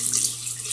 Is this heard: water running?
yes